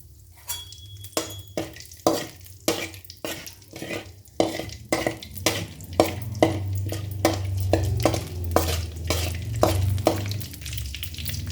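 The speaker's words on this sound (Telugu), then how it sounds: "తిరగమాత పెట్టుకుందాం. ముందు కొంచెం జీలకర్ర, కొంచెం పచ్చెనగపప్పు, కొంచెం ఆవాలు" Cumin, chana dal and mustard seeds sizzling in hot tempering oil for an okra curry, with a spoon striking the pan in a quick, steady series of clinks over a rising crackle, close and clear with no voices.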